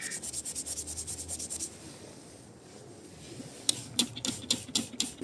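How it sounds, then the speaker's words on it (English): A toothbrush scrubs rapidly back and forth on a car wheel coated with wheel cleaner, a run of rhythmic bristle strokes, a short pause, then another burst of scrubbing, close and alone. "I've got to painstakingly do it with a toothbrush"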